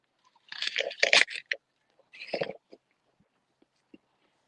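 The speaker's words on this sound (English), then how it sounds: "I can just take it off the tree and eat it." Someone bites into a large fresh apple just picked from an orchard tree, giving a loud crisp crunch followed by a second crunchy bite and a few faint chewing sounds, close up.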